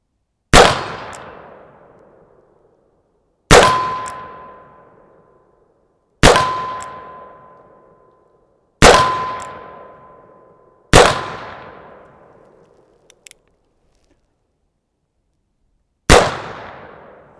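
A brass-framed Pietta 1851 Navy cap and ball revolver fires six sharp, loud shots at uneven intervals, each crack followed by a ringing tail that fades over a second or two.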